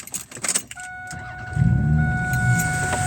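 A car is started with a key: faint jingling and clicks, electronic chime tones, then the engine cranks and catches into a steady idle that continues loudly to the end.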